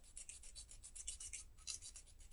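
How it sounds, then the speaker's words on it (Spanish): A nail file rasps in quick, even back-and-forth strokes on a fingernail, a soft scratchy rhythm close up, with no talking. "Lo primero es lijarla, ¿vale? Dejarla toda igual"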